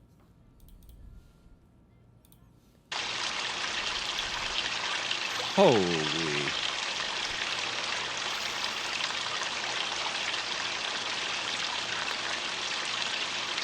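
Steady broadband rush of a waterfall starts abruptly and continues loud and constant, with a brief excited voice exclaiming partway through.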